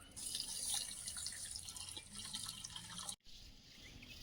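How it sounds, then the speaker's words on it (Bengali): Mung dal is washed in water: a steady splashing and trickling with light drips, fairly close, that stops abruptly near the end and leaves only faint room noise. "মুগ ডালটা ধুয়ে নেব"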